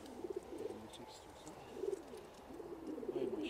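Several pigeons coo softly at close range in repeated low bursts, with a pause in the middle and a denser cluster of calls near the end, over a faint background hum.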